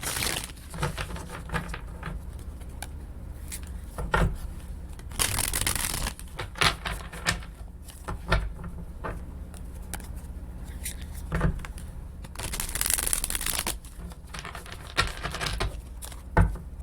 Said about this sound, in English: So I will just pull one card for each of the oracle messages